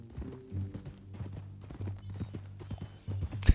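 Hooves clip-clop in an uneven walking rhythm, close by, with a brief snort and a low steady hum behind them, from a horse in Red Dead Redemption 2.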